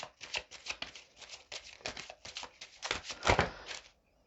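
Tarot cards are shuffled by hand, a quick run of crisp riffling flicks and soft slaps close by, ending as a few cards drop and then silence.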